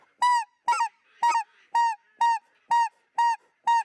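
A goose call blown without popping the air sends out eight short, even honks in a steady rhythm, close and loud with brief gaps between.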